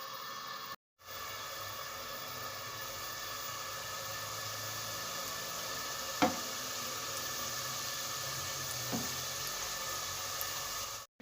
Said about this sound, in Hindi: अब हमने कढ़ाई में ऑयल रख दिया है चूल्हे पर गर्म होने के लिए और इन्हें फ्राई करते हैं।